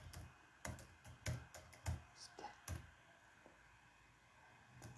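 Fingers tap out a quick, irregular run of soft clicks on a computer keyboard, heard close but quiet, with a lighter scatter of keystrokes toward the end.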